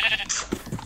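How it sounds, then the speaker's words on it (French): A sheep bleats in Minecraft, a nasal, wavering cry heard close and clear at the start, followed by softer game sounds. "Venez, mes petits moutons."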